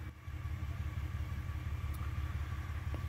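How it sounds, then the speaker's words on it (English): A Saab engine idles in a garage with a steady, low, even rumble that holds at the same level throughout, with no one talking over it. "now I have the car running."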